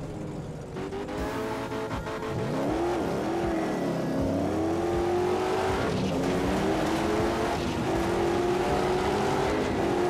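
Race cars in recorded auto-racing footage drone loudly with revving engines rising and falling in pitch through gear changes, a steady close engine roar running the whole time without talk.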